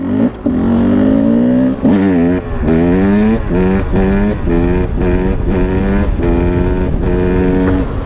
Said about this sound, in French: je peux vous montrer L'accélération, à quoi elle ressemble cette montée